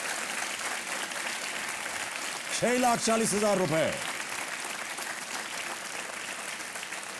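Studio audience applause on the quiz show Kaun Banega Crorepati, steady clapping throughout with someone speaking briefly over it in the middle.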